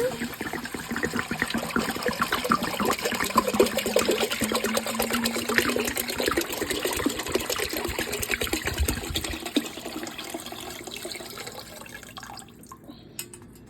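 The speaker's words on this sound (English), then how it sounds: "I'm just going to add some water." Water splashes and trickles steadily into a cooking pot for lentil soup for several seconds, a continuous close pouring sound that tapers off near the end.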